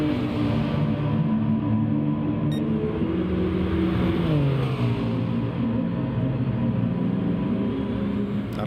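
McLaren race cars roar around Fuji International Speedway in Gran Turismo Sport. Engine drones stay loud and steady, with a pitch shift partway through as the cars jostle on the final lap.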